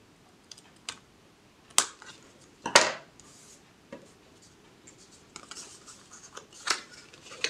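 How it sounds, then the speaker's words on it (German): Paper-crafting scissors snip off the overhanging glue flap of a criss-cross greeting card, a few sharp close cuts and crisp clicks spaced irregularly in a quiet room. "Dann nehmen wir uns jetzt einfach eine Schere"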